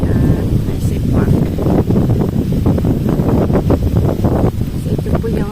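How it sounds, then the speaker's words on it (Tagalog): Strong wind at a beach in Tambobong buffets the microphone in loud, rough gusts that roar continuously, with people talking underneath throughout. "Mahangin din po. Pero mas mahangin dito sa kanila."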